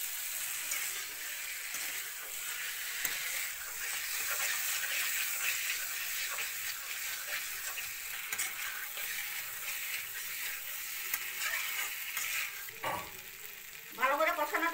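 Fish head stir-frying in a pan, a steady close sizzle and frying crackle running throughout with occasional stirring scrapes, rising briefly louder near the end.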